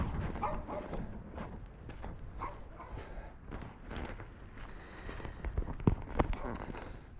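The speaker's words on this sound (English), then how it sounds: "A big guard dog." A big guard dog barks in scattered bursts on a street during a walk, the woofs fairly close over steady outdoor background noise, with a few sharper barks near the end.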